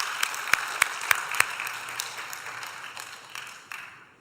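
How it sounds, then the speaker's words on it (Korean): A church congregation applauds the choir: a few sharp, distinct claps ring out first, then spread into a soft, scattered wash of clapping that thins and fades away. "성가대 다시 한번 박수로"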